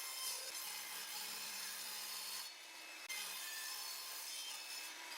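A saw cuts through a plywood offcut with a steady, close rasping hiss that runs continuously, dipping briefly midway before carrying on.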